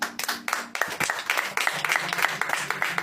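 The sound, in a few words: audience applause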